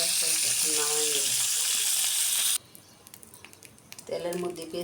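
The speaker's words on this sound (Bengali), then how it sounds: "তেলের মধ্যে পেঁয়াজ কুচি দিয়ে দিলাম।" Chopped onions dropped into hot oil, a loud bright sizzle for a couple of seconds that then cuts off to quieter clatter before a voice speaks near the end.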